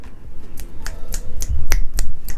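Finger snapping used in place of clapping applause by a speaker holding a microphone, a series of sharp, close snaps in an irregular rhythm, about ten in quick succession.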